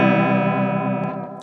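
A Keeley Caverns V2 delay/reverb pedal with its modulation rate turned all the way down holds a sustained, distorted guitar chord that rings steadily with a thick reverb tail before the sound thins out at the end.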